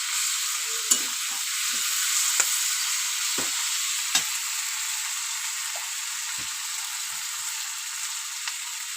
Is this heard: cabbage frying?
yes